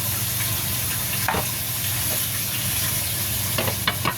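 Chopped onion and tomato sautéing with chicken in a pan for tinulang manok, giving a steady close sizzle and hiss with a few scrapes of stirring throughout, no talking.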